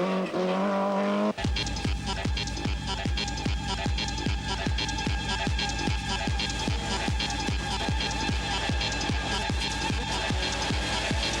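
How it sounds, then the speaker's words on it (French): A rally car competing in the 1999 Rallye de Madère on mountain roads: after a brief quieter start, a loud, close engine roar takes over, throbbing in rapid regular pulses as it drives hard. No voices. "Pour la dompter, Bruno Thierry doit parfois rouler dans le brouillard, là-haut, dans les nuages."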